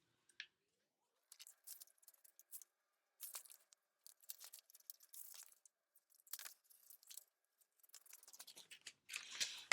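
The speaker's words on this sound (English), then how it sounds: "so we'll cut these out." Close scissor snips cut out paper wallet pieces in short, uneven bursts separated by brief pauses, with faint crinkling of paper and no speech.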